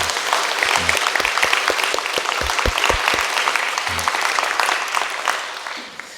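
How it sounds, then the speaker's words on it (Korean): A church congregation claps warmly for the Saenaeul choir after its performance in a Korean Sunday service: dense, sustained applause from many hands that fades out near the end. "우리 함께 힘차게 박수로 우리 축복하도록 하겠습니다"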